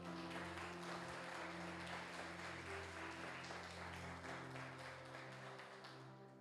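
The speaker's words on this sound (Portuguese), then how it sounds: "Dê uma salva de palmas ao Senhor" Church congregation at a service giving a round of applause to the Lord, steady clapping over sustained organ-like musical tones, fading slightly toward the end.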